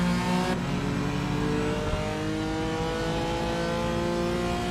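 A GT4 race car in the iRacing sim at Donington, heard on board as it brakes toward the chicane: a loud continuous engine drone whose pitch falls as it slows, with no voices.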